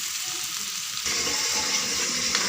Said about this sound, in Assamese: এইখিনি ভাজি লৈ পেলাই ইয়াতে তেল মাৰি দিম কচুখিনি